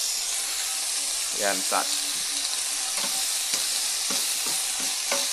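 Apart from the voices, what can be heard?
frying and stirring food in a pan until translucent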